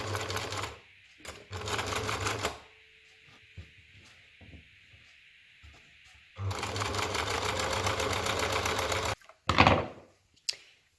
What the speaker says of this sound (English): So we're just going to stitch around the edge here, and then we're going to French seam it.